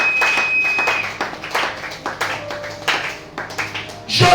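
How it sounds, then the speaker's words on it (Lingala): A church congregation at a prayer programme claps in praise, the claps rising and falling in uneven rhythmic bursts across the room. "Acclamons pour Jésus."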